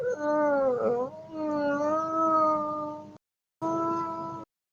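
A voice imitates weird, whimpering animal sounds, a string of wavering, cat-like whines and howls with a short pause before a final burst, close and fairly loud.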